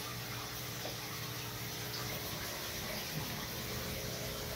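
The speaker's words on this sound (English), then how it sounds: "I'm getting a water change right now" Steady rushing water runs continuously, like a tap or hose filling a cichlid aquarium during a water change in a fish room, with a constant low hum underneath.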